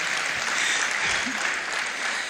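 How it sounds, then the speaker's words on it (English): An audience at a conference claps together in a dense, steady burst of applause, close and fairly loud, lasting a couple of seconds. "Another opportunity to clap there."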